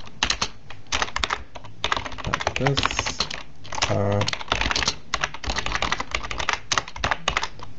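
Rapid clatter of keys on a computer keyboard, steady close bursts of typing with brief pauses, while someone talks during a Lisp programming demonstration.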